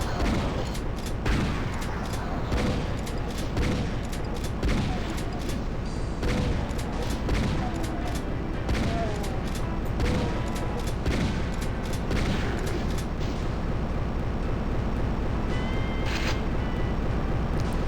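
Rocket launcher fire and explosions in Doom II against an Arachnotron, a dense, loud barrage of repeated blasts and booms with no pause throughout.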